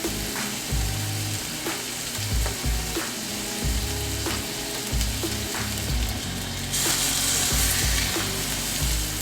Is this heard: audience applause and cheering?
no